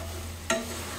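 Vegetable masala Maggi noodles with fresh coriander leaves get stirred in a pan: a single short scrape-and-clatter of the spoon against the pan over a quiet background, with no talking.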